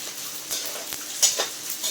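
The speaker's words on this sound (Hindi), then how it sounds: "देखिए कितना अच्छे से तल रहा है ये" Ingredients for postpartum laddoos frying in a pan with a soft continuous sizzle and crackling, plus a few light pops and stirring scrapes up close.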